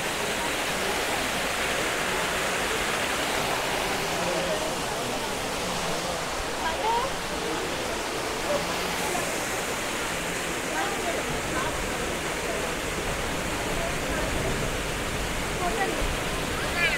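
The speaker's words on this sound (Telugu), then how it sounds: "వాటర్ సౌండ్ కూడా చూడండి." Flowing water at the Jagannath temple in Hyderabad, a steady, dense rushing wash like a small waterfall, unbroken and fairly loud throughout, with faint voices now and then beneath it.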